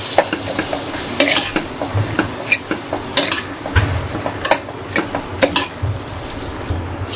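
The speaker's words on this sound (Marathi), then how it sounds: "चांगलं मिक्स करूया" Dragon stalk yam (shevla) is stirred into spices frying in oil in a pan, with a spoon scraping and clinking against the metal in irregular strokes over a soft, steady sizzle, close and clear.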